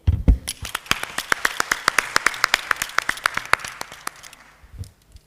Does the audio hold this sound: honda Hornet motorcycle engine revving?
no